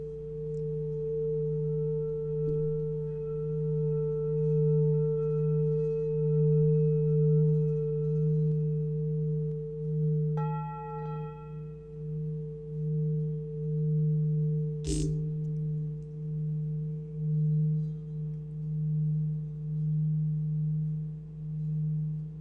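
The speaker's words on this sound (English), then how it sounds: "This also gives you a low hum, but it's very embodied. It's a very heavy bowl." A heavy singing bowl gives a steady, low sustained hum with a faint higher overtone, fairly quiet, with a brief sharp knock partway through.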